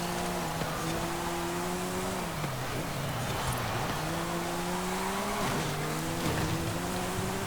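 A Porsche 935 race car in the Forza Horizon 5 video game screams through high-speed corners, its engine note rising and dropping steadily with gear changes, tires squealing underneath, loud and continuous.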